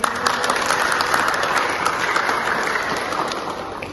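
Schoolchildren clap together in a classroom after a science lesson, a continuous even patter of many small hands, fairly loud and unbroken from start to finish.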